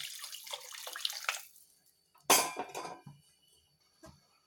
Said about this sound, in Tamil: இப்போ புளி தண்ணி சேர்த்துக்கிறேன்